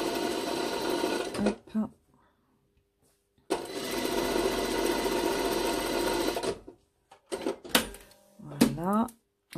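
A domestic sewing machine runs in two sustained bursts while stitching gathering rows on a sleeve, loud and close, separated by a pause, followed by short clicks and handling noises and a brief spoken word.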